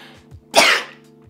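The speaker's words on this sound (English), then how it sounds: "Well, first I got to sneeze." A single sharp, loud sneeze bursts out close to the microphone, preceded and followed by faint breathy sounds over a low steady hum.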